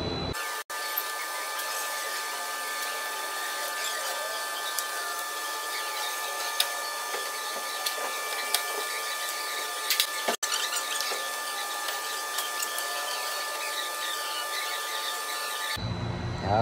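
Removing Torx bolts from a 2019 Maserati front bumper produces a continuous high-pitched whirring tool drone with faint clicks, close and steady, with no talk.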